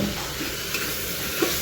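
Spices sizzle steadily in a pan with dal, a dense continuous frying hiss heard close and fairly loud, with faint stirring scrapes.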